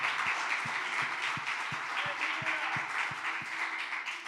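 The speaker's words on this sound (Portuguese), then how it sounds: "Você pode dar um aplauso pela palavra de Deus," A church congregation applauding, with steady massed clapping at a moderate distance and a few sharp, distinct claps standing out above it, and no talk.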